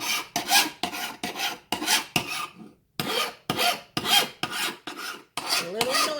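Rhythmic rasping strokes of a metal file sharpening a garden tool, about a dozen back-and-forth passes up close, with one short pause midway.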